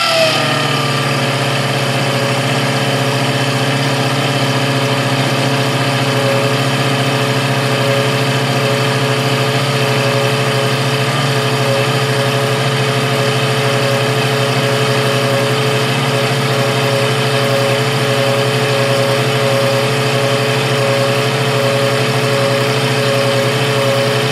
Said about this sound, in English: now we're going to start taking another cut with coolant